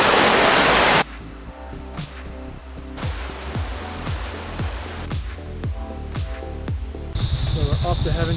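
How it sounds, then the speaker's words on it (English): A powerful waterfall roars loudly as dense, rushing water noise for about a second, then gives way to quieter, rhythmic sounds. "One of the coolest waterfalls I've seen on my trip is this one."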